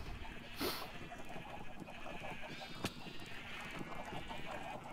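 Sheep bleat in the Minecraft video game during farm tending, a few short bleats standing out over a steady low game background.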